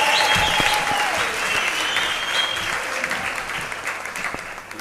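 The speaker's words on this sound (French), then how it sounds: "Applaudissez très fort pour le Seigneur Jésus-Christ." Sustained applause from a congregation inside a church during a wedding ceremony, dense and steady throughout, with faint tonal sounds drifting in the background.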